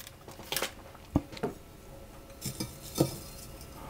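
Butter, golden syrup, salt and sugar go into a fairly small saucepan, with a few sharp metal clinks and taps of a spoon against the pan, spaced apart over quiet, soft handling sounds.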